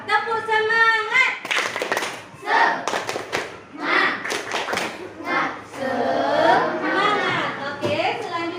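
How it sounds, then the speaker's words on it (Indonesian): A school class performs a rhythmic spirit clap, bursts of unison hand claps in a patterned beat alternating with children chanting and a teacher's voice. "Tepuk semangat"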